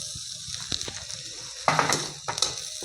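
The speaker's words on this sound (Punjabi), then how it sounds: "ਟਮਾਟਰ ਨੂੰ ਵੀ ਆਪਾਂ ਹਲਕਾ ਜਿਹਾ ਭੁੰਨਾਂਗੇ" Chopped tomatoes lightly roasting in a pan for a bread breakfast dish, a soft sizzle with intermittent stirring scrapes and clicks, close and fairly quiet.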